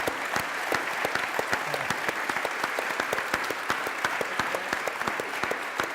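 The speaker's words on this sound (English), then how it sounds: "Could we have another round of applause for our guests?" An audience at a college inaugural symposium applauds its guests, with many distinct hand claps forming a steady, even roll for several seconds.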